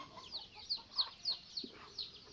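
Chickens cluck in a village yard with a rapid series of short, fairly quiet calls, roughly six clucks spaced about every third of a second.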